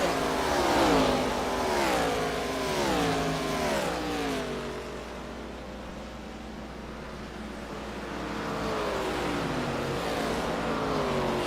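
Stock race cars in a sim racing ARCA series drone loudly past on a tri-oval, engine pitch swooping and waving as they pass, fading briefly before another car's rising engine returns, with no talking.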